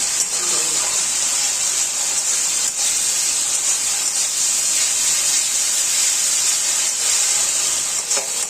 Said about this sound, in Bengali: আমি আরো 2-1 সেকেন্ডের মতন একটু মশলাটাকে কষিয়ে নেব।